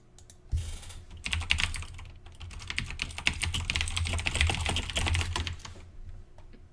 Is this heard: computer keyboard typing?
yes